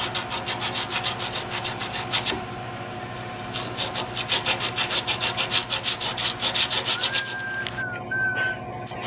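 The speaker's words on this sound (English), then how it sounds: "the good thing about using emery cloth is it has the abrasive on it is aluminum flake" Emery cloth with aluminum flake abrasive rubbed back and forth on a pipe while prepping a CM 1850 compressor, a close, rhythmic rasping scrub in quick repeated strokes with a brief whistle-like tone near the end.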